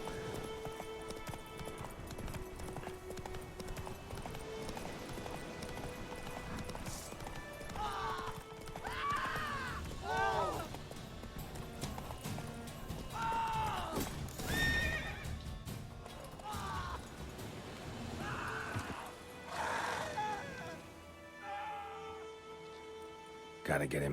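Roach, Geralt's horse in The Witcher 3, gallops with rhythmic hoofbeats and lets out several whinnies and neighs, with spoken dialogue between characters running over the action.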